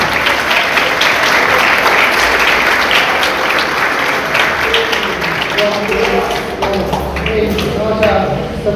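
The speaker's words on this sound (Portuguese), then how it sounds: "aplaudindo bem forte o nome de Jesus" A church congregation applauds loudly and continuously, a dense wash of clapping filling the room for the whole stretch, with voices mixed in beneath it.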